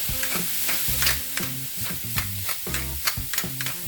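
A chicken cutlet sizzles steadily in a frying pan, a close bright hiss of frying oil under repeated rhythmic stirring or scraping knocks, with no talking.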